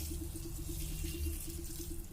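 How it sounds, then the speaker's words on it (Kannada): Water pours steadily into a pan of sugar while making coconut candy (kobbari mithai), a continuous close trickle and splash lasting a couple of seconds without interruption. "ಸಕ್ಕರೆ ಮುಣಗುವಷ್ಟು ನೀರು ಹಾಕ್ತೀನಿ"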